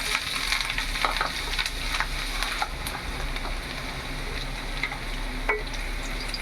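Chopped garlic sizzles and crackles steadily in a hot pan, sautéed toward golden for palak paneer gravy, with a continuous frying hiss and no voices.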